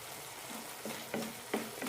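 Curry leaves dropped into a pan of frying okra masala: a soft, steady sizzle with a few quiet crackling pops and stirring scrapes, close and faint.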